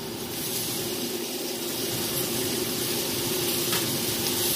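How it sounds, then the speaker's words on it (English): Half a large onion sautéing in two tablespoons of butter in a pan: a steady, even sizzle with a soft hiss that holds at the same level throughout, alone with no talking. "I'm just going to let it saute in here until it gets real nice and translucent"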